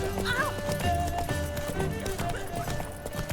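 Horse hooves trot in The Witcher 3, a steady clip-clop rhythm mixed with a whinny and game music, while a voice speaks briefly over it.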